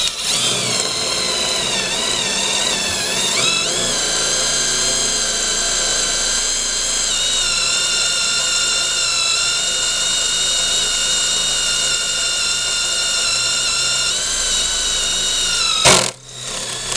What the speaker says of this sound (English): I'm using a impact drill driver with special new set of bits